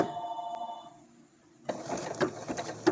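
Domestic sewing machine stitching a zigzag satin stitch along a raw-edge applique, starting up after a quiet pause with a close, steady mechanical rattle and several sharp clicks.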